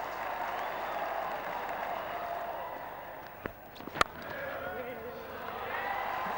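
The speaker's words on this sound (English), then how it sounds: "Everybody applauding it." Cricket crowd at a New Zealand versus England match applauding a big hit, a distant, steady roar of clapping running throughout under commentary, with a couple of sharp knocks near the middle.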